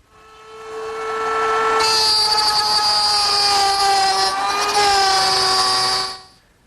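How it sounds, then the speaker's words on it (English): A router on a router table spins up to a loud, steady high whine and cuts a groove in wooden frame parts for a pie safe cabinet, the pitch dipping slightly under load before the motor winds down. "Now, I'll make the groove over on my router table."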